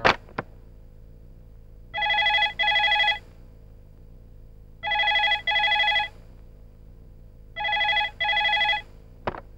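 Telephone bell ringing in three separate bursts, each a pair of bright electronic double rings, clear and close, with quiet gaps between and a couple of sharp clicks at the start and end.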